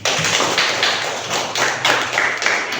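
A class of fourth-grade pupils claps for everyone after group presentations, a loud burst of many hands with distinct sharp claps and thuddy taps, continuous and close.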